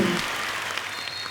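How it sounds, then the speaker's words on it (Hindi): Studio audience applause welcomes a guest on a comedy talk show, a brief, even wash of clapping at moderate level without clear speech. "तालियां जोरदार होनी चाहिए।"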